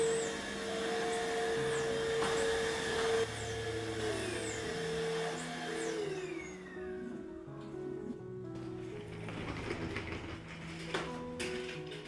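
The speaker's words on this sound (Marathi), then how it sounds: "व्हॅक्यूम क्लीनर मध्ये सोफा आणि कार्पेट वरती किती डस्ट निघाली" A vacuum cleaner motor whines steadily, its pitch shifting as it works over a sofa and carpet, then the hum changes and fades toward the end.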